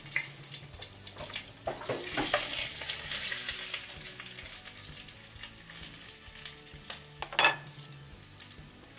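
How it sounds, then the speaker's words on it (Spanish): Chiles hit hot chicken fat in a pot with a bright, crackling sizzle that swells and then settles, with a few sharp spatters and stirring clinks up close. "Primero voy a agregar los chiles, recuerden que solamente es una pasadita"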